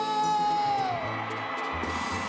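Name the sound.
crowd shouting at a live band concert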